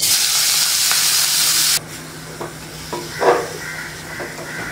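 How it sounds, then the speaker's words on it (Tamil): Carrots sauté in ghee with a loud, steady sizzle that drops abruptly partway through to a quieter simmer, broken by a few soft scraping stirs of a spoon. "கேரட்டை கொஞ்சம் நெய்யில் நல்லா வதக்குவோம்"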